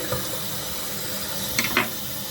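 A wall-hung Geberit toilet cistern filling with water makes a steady rushing hiss, with two brief louder splashy bursts near the end.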